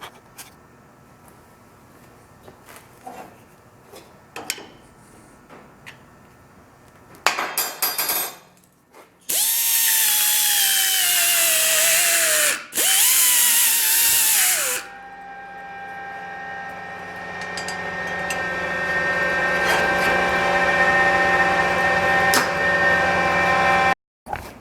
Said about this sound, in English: so I'm going to drill a big hole.